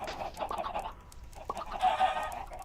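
Minecraft chickens cluck and squawk in short, repeated bursts against a soft background, with a busier flurry of clucking near the end.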